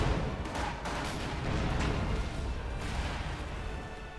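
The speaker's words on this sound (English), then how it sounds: "A few explosions there, but no real casualties." Battlefield explosions and gunfire from Company of Heroes 2, a World War II strategy game: a dense, continuous wash of booms and rumbling fire with repeated sharp bursts, loud and steady throughout with no voices.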